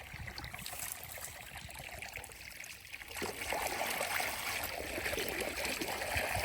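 Freshly dug carrots are rinsed with water on a farm, a steady splashing and trickling that swells louder after a brief pause, close by with no talk.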